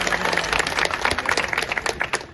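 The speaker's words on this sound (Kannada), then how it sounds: "ಅವ್ರಿಗೆ ನಾವು ಚಪ್ಪಾಳೆ ಮೂಲಕ ಅವ್ರನ್ನ ಸ್ವಾಗತ ಮಾಡೋಣ" A crowd at an outdoor farmers' protest against power shortages in Belagavi claps to welcome supporters, a steady patter of many hands at moderate loudness.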